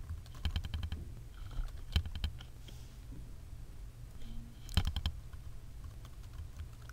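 Typing on a computer keyboard while entering an email address to log in, a few quick bursts of soft key clicks separated by pauses, quiet and close.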